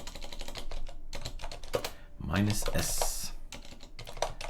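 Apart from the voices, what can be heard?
typing a command on a computer keyboard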